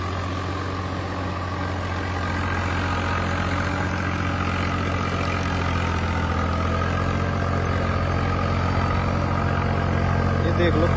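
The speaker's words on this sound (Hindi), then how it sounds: "नॉर्मल बिल्कुल चल रहा ट्रैक्टर।" A Swaraj 855 tractor of about 50 HP runs with a large 9-foot rotavator working soil, giving a steady, loud low-pitched engine drone that holds constant throughout without pause.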